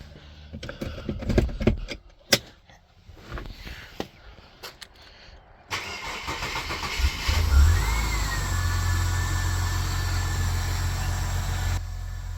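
Ford AU Fairlane engine cranking and catching, first some clicks and rustling, then a sudden start into a loud, rough idle with a brief rev and a rising whine, holding steady close by.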